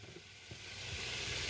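Ground meat for chili sizzles steadily in a hot pan while it is broken up, a continuous close hiss that swells slightly toward the end, with only faint scraping underneath.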